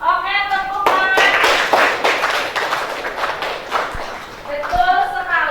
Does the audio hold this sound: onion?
no